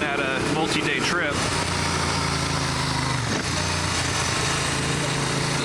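A motorcycle engine runs steadily and loudly throughout, holding a continuous drone with a brief dip in pitch near the middle, while a person talks over it.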